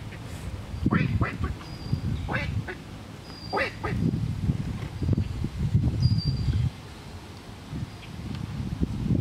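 A fish duck on a creek quacks in short, repeated calls close by, with wind and rustling around it.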